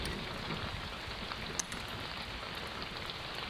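Steady rain falls outside a police station, a dense, even hiss of drops with no voices, constant and fairly close throughout.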